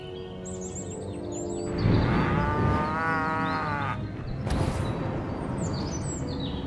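Zombie cows lowing in the game Destroy All Humans, a drawn-out moo rising over a busy mix of whistling, chirpy effects and a rumbling bed, with no speech.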